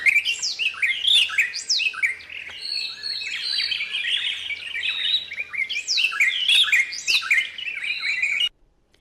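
Several birds call and chirp continuously in a forest in Marsabit National Park, a dense overlapping chorus of bright tweets and trills at moderate distance, with no talking.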